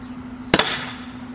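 A single sharp shot from an Umarex T4E double barrel shotgun loaded with homemade custom ammo at a shooting range, one loud crack with a short decaying tail over a steady background hum.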